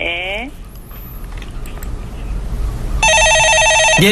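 A landline telephone rings with a loud, steady electronic warble of evenly spaced harmonic tones near the end, following a short rising tone at the start and low background murmur.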